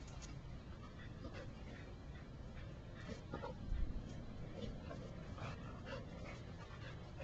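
Pack of dogs playing during a training socialization session outdoors, faint yips, whimpers and panting scattered over a low, steady background, one slightly louder bark-like burst midway.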